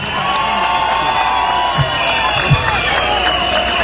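Crowd at a political rally in Ibagué cheering and applauding loudly, with a dense wash of claps, whoops and shouts throughout, plus a few louder thumps.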